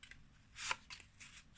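Tarot cards being shuffled in a quiet room, soft papery riffling that swells into one louder burst of rustling and then continues in a few lighter flutters.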